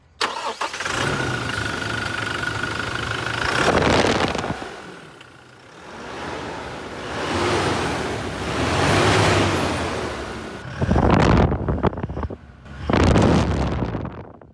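A Toyota Fortuner Legender 4x4 engine runs up close, revving and idling in surges, with a couple of sharper roaring bursts near the end.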